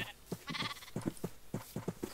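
Sheep bleating in the Minecraft video game, several short repeated bleats in quick succession, clear and close with no other sounds.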